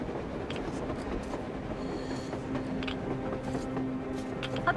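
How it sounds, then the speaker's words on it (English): A train rolls across the surface in the video game Metro Exodus, with a continuous rumbling rail clatter, metallic squeals and clanks, steady and fairly close. "A train! A damn train on the surface!"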